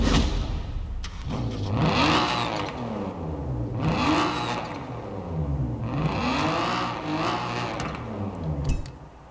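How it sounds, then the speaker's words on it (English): A 1992 Honda NSX-R drift build with an upgraded engine revving repeatedly, each throttle blip rising in pitch and falling away, about four loud close revs in a row with no talking. "Let's give this thing a listen."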